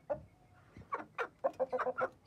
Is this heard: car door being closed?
no